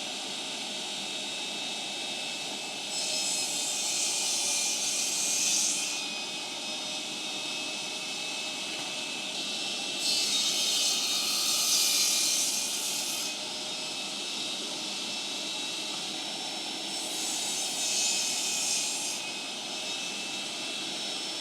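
Metabo TS254 table saw making cross cuts in a workshop with a shop vac running, a steady loud hiss with three bursts of the blade cutting through the wood, alone without speech.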